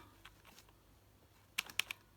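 Sticky buttons on an Elektron Digitakt pressed several times in quick succession, a cluster of sharp, close plastic clicks after a quiet stretch with a few faint taps.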